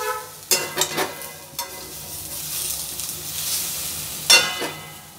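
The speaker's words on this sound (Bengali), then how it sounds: "তাই গ্যাসের ফ্লেম একদম লো রেখে কিন্তু বেগুনি ভাজতে হয়" Brinjal fritters (beguni) frying in oil over a low gas flame make a steady sizzle, broken by a few sharp splashes and stirring clatters, close and without speech.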